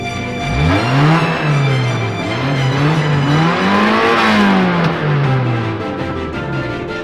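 An Opel Ascona engine revs up and down in smooth, repeated swells, its pitch rising and falling close by and loud, with no one talking.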